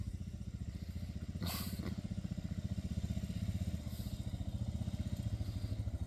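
A small motorbike passes at the end of a rural road, its engine putting out a steady rapid low putter throughout, close and fairly loud, with a couple of brief bursts of hiss.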